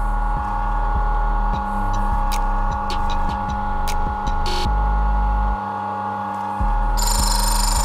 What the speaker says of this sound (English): You want to hear the burr start to shim.